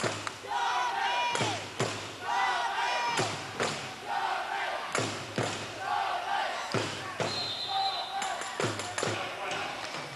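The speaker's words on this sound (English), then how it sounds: "there weren't many travelling Derby fans in the crowd, but they're certainly making a lot of noise" Visiting Derby supporters in a 1993 basketball arena make a loud, surging racket of cheers and shouts, punctuated by dull ball thumps and bangs, with voices talking throughout.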